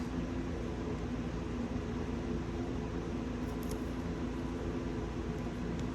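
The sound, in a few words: room fan and air conditioner running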